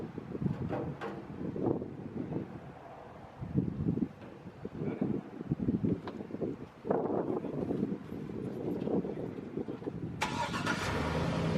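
A pickup truck's engine starts and the vehicle rolls forward. Low engine noise rises and falls, with wind buffeting the microphone and a brighter burst of noise near the end.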